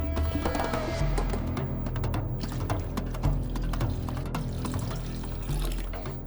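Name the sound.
water poured into dovga soup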